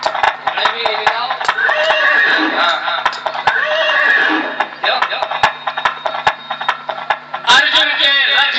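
Horses whinnying and neighing repeatedly over clip-clopping hooves, a loud close sound effect played during a Hindu religious recitation, with sharp hoof clicks throughout and a fresh burst of neighs near the end.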